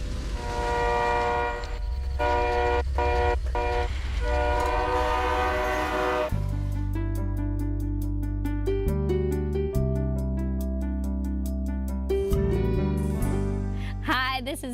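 A train approaches with a loud, sustained horn blast, its tones shifting as it nears, over a heavy rumble of rail cars, all close and dominant with no talking.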